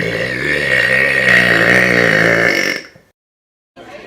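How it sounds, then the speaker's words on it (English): A single long, loud, throaty burp rumbles close up for over two seconds in a crowded restaurant, then cuts off abruptly into near silence. "Okay guys, here's the burp."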